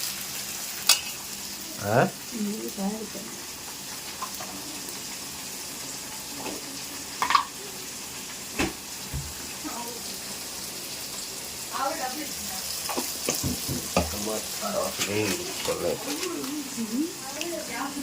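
Dosa frying in ghee on a hot pan, with sizzling and scraping bursts that come and go through the clip, close by, while people talk intermittently.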